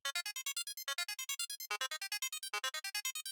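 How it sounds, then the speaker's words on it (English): Bright synth notes pulsing rapidly in a steady arpeggiated pattern, repeating cycles of rising pitches, loud and crisp. "So I have that sound just going through an arpeggiator"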